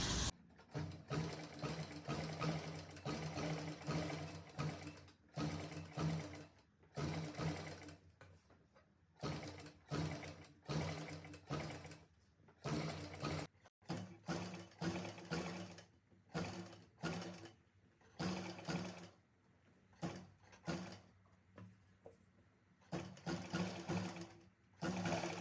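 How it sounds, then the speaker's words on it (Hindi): A sewing machine runs in repeated short bursts as it stitches over an existing seam on fabric for a readymade neckline, whirring and clattering close up with brief pauses between runs. "सेम इसी सिलाई के ऊपर हमें सिलाई को लगाना है"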